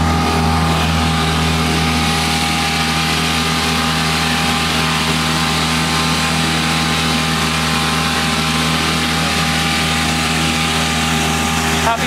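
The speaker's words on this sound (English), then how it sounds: "Let's have a look at the outboard." An outboard motor on a BS30 sailboat drones steadily and loudly at close range on spring coastal water, a continuous even engine hum with no talk.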